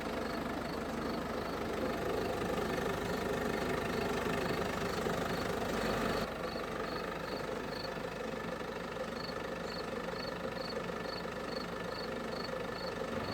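A 2012 Peugeot 5008 HDi 110 with a 1.6-liter single-cam 8-valve turbo diesel inline four idles steadily, its diesel clatter constant and close, dropping slightly in level halfway through, with no voices.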